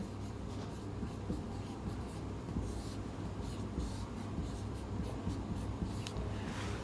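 Continuous scratchy strokes of chalk or pen come from someone writing a math equation during a coordinate geometry lesson. They sound faint and close over steady low room hum, and no talk is heard.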